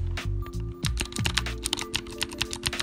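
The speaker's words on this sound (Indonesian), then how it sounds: "Ini adalah suara dari switch warna biru." Blue-switch mechanical keyboard being typed on, giving a steady stream of close, crisp clicky keystrokes with an uneven rhythm and no talking.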